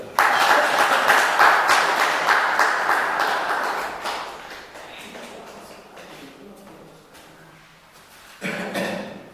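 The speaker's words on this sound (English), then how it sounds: "So please give a round hand of applause for Balkeshwar sir." Loud, dense clapping from an audience at a school teacher-training session that gradually thins and fades, then swells briefly again near the end.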